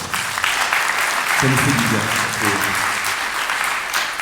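An audience applauds at a foundation evening event as a guest speaker is welcomed, the clapping loud and continuous while someone speaks briefly over it.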